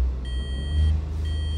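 A 2017 Smart 453 car switches on with a steady electronic dashboard tone that sounds, pauses, then resumes, clear and close over a low idle hum.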